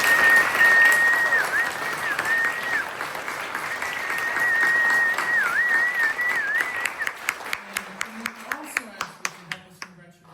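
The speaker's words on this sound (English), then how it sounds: "Can we ask you to help us with one more round of applause to congratulate all the performers" A concert-hall audience at a gala performance applauds the performers, with broad sustained clapping and crowd noise. A voice with a tonal, sung quality runs over the first part, and the applause thins out to a few distinct, spaced claps near the end.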